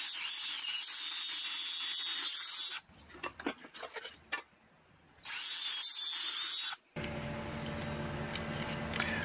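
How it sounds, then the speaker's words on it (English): A drill with a 7/16 bit punches a hole through scrap plywood in sharp bursts of whining, grinding noise broken by short quiet gaps, then a rougher, lower scraping passage, all close and loud. "So I've got a 7/16 bit for drilling this with."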